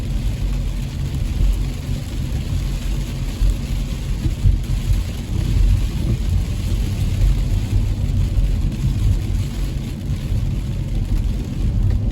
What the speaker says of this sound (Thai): พามาขับรถฝนตกนะครับ